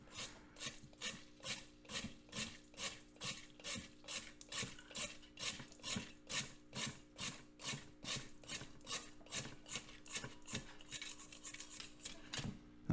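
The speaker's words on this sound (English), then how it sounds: "Now we'll use a clean spatula to scrape the rest of the silver." A clean spatula scrapes silver crystals inside a silver cell in a steady run of about two dozen rhythmic rasping strokes, close and quiet, with no talking.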